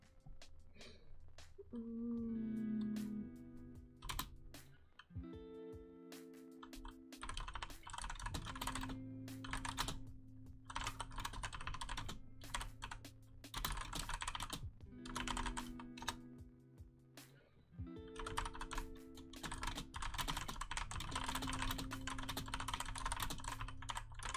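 Crisp, clicky computer keyboard typing goes on steadily and close-up in a quiet ASMR study setting, a dense patter of keystrokes under a faint background tone.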